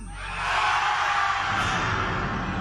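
A studio audience on a Filipino noontime game show shouts together in one sustained, loud roar that builds over the first half second and holds steady throughout, with no single voice standing out.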